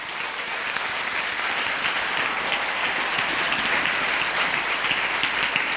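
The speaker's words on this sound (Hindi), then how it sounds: "ओ ताली बजा के खुदा की एक बार महिमा करें" A church congregation at a prayer festival in Baikunthpur, Chhattisgarh claps together in steady, dense applause that holds at an even level from start to finish, with no voices breaking through.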